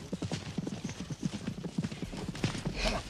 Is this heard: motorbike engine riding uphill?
no